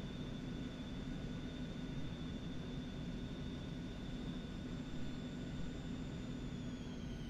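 Steady broadband jet engine roar of an airplane taking off in the X-Plane 11 flight simulator, a constant loud rush with a faint high whine running throughout, no voices.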